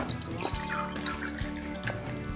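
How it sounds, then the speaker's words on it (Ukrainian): Ordinary tap water poured into two glasses, a steady, close liquid stream with splashing and trickling that runs continuously throughout, with no talking. "Спочатку наліємо два стакани звичайної води з-під крану."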